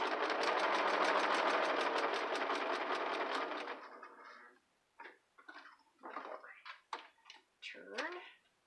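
A sewing machine back stitches a fabric seam for a candleholder centerpiece. It runs loudly with a rapid rhythmic clatter for several seconds, then stops and a person talks.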